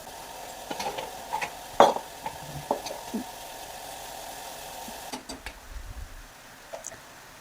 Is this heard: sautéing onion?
yes